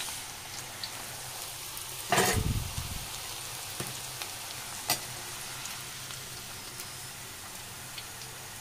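Ivy gourd chicken pakoda deep-frying in hot oil, giving a soft, steady sizzle with a brief louder crackling burst partway through, then quiet bubbling with faint ticks.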